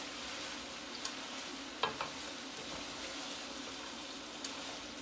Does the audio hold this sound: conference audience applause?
no